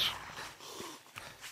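Dogs attacking in the survival video game 7 Days to Die, with faint whimpering and growling bursts at low volume, a brief sharp yelp near the end, and no talk.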